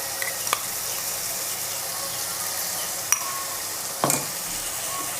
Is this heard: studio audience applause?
no